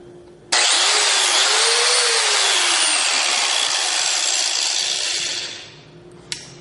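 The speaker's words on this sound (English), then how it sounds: "This is a angle grinder." Angle grinder cutting into an iPhone 6s, a loud, steady high-pitched whine that starts abruptly and holds for about five seconds before tapering off, ending with a brief click.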